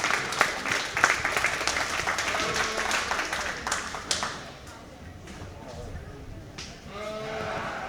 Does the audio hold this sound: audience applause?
yes